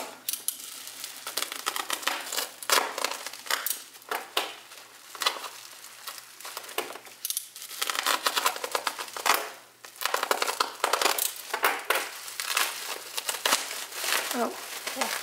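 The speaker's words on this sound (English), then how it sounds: "this seller clearly uses a lot of bubble wrap, which I love. You can never have too much bubble wrap. Just annoying to open" Bubble wrap around a mailed package of K-pop merchandise crinkles and crunches in loud, irregular bursts close to the microphone while someone talks over the handling.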